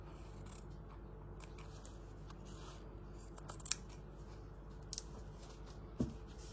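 Close, quiet snips of scissors cutting paper, a few distinct clicks spread out with one sharper cut near the end over a faint background hiss.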